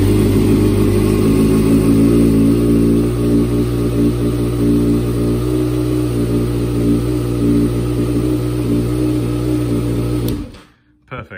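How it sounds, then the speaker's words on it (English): A loud, steady Kawasaki ZX6R motorcycle engine idles and revs close up for about ten seconds, then cuts off abruptly, leaving a brief sputter. "Start the bike."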